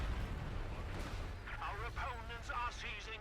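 Stun grenade blast in Company of Heroes 2, a World War II strategy game, rumbling amid a dense, continuous backdrop of artillery and gunfire, with voices chattering over the top.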